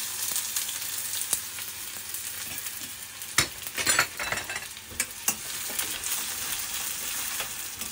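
Steady, broadband sizzle of onions frying in a hot nonstick pan, with a few sharper crackles and spatters popping up through the continuous hiss.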